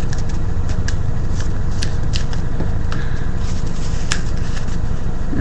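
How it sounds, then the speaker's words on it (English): Sheets of paper being folded and creased by hand while making a paper airplane, with close, continuous crinkling and rustling plus a few sharper crackles, no talking. "take these, fold them up like so. Flip this up here like that, and oh yeah, try not to rip it"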